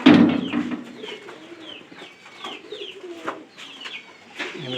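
A visiting pigeon cooing close by outdoors, a series of soft rolling coos at uneven intervals with quiet gaps between, starting with a louder burst.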